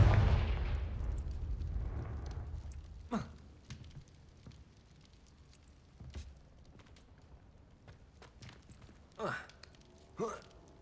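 Fire spell cast in Hogwarts Legacy, a single heavy burst at the start that rumbles and fades over a couple of seconds, followed by quieter whooshes and sharp effect sounds.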